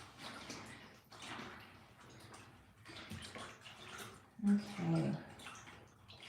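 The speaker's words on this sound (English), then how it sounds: "with the sound of lots of running water" Tap water runs steadily to rinse leftover gel from a scarf, a soft continuous splash and patter with a short louder gush near the end. A voice speaks briefly over it.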